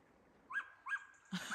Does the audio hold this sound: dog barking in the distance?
yes